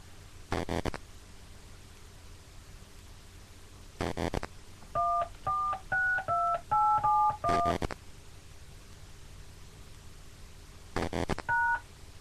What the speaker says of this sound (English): Please enter your host PIN. When finished, press the pound key.